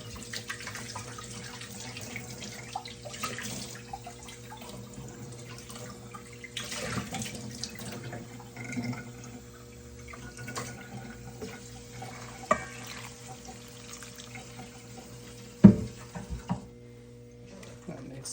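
Water pours into a pot of saltfish and split peas seasoned with jeera and masala, a soft steady trickle with faint clinks and stirring, close and quiet.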